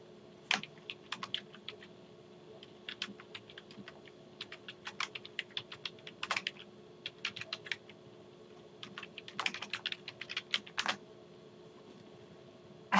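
Quiz question text being typed on a computer keyboard: bursts of quick, light keystrokes with short pauses, close and fairly quiet over faint fan hum, no speech.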